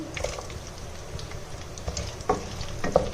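Garlic fries in a pan while a tomato pickle is made, with a soft oily sizzle and several sharp clinks of a stirring spoon against the pan, close and fairly quiet.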